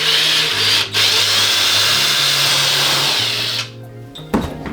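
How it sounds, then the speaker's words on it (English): A power drill bores holes in a wooden Grinch-inspired tree ornament, a steady motor whine running for several seconds with a brief dip, then cutting off near the end with a small clatter. "So I'm going to drill some holes."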